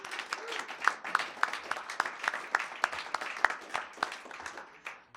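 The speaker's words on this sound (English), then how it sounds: "big round of applause for Big O Tires" A small audience claps steadily for about five seconds at a live music session. The claps are dense and uneven, of moderate loudness, with a faint murmur beneath them.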